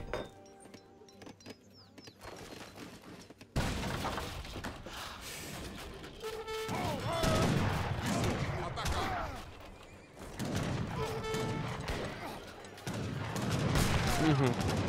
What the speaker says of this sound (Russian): Ой, блядь, еще и пушка приехала.